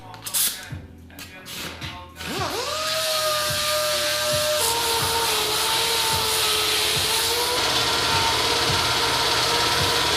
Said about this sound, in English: So I got the sander already.